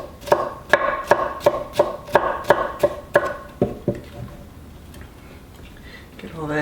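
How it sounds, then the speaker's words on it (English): A knife julienne-slices a pepper on a cutting board, giving about nine quick, evenly spaced chops close up before the cutting stops and a voice speaks. "as I'm slicing up my pepper, about as wide as a kernel of corn. So I just do some little julienne with the pepper"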